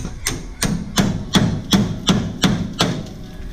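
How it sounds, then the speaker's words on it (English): Hammer blows knocking stuck, decades-old bolts loose from the front end of a Chevrolet El Camino, eight or nine heavy metallic strikes in a steady rhythm about every third of a second, loud and close. "So we're gonna bang them off right now."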